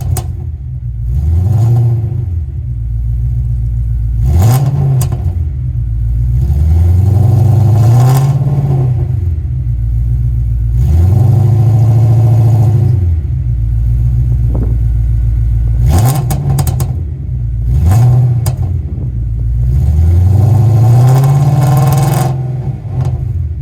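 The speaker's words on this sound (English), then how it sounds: "I filmed the video just giving it some revs." BMW E39 M5 V8 revved repeatedly through an unresonated X-pipe exhaust, loud raspy blips rising and falling in about seven close revs, with the engine idling between them.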